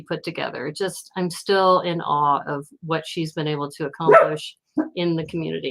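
A pet dog barks repeatedly in a home, set off by a neighbour's door slamming; the sharp barks sit beneath and between a continuous nearby voice talking.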